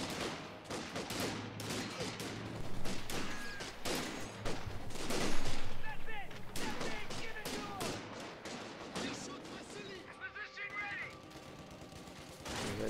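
Rifle and machine gun fire crackle through a strategy video game battle, with dense bursts and fusillades under ongoing commentary talk.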